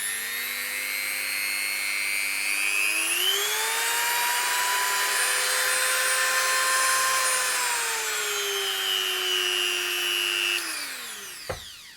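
A small Distianert multi tool motor whines steadily after being switched on, rising in pitch partway through, holding a high tonal drone, then spinning down with a sharp click near the end, close and alone.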